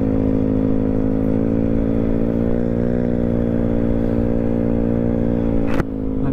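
A motorcycle fitted with a loud JVT exhaust pipe revs hard and close, a thick, continuous roar that swells slightly and then cuts down sharply near the end.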